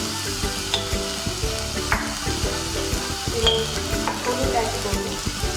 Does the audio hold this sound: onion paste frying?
yes